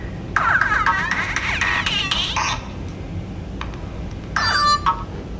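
A mobile phone ringtone going off during a college lecture, a bright melodic electronic tune playing for about two and a half seconds, then a short final burst after a pause, with no talking over it.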